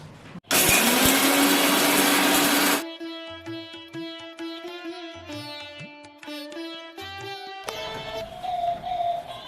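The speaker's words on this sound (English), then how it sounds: "Now let's grind it." Roasted spices being ground into masala powder in an electric grinder: a loud, close whirring roar lasting about two seconds, then cutting off, leaving softer tonal background sounds.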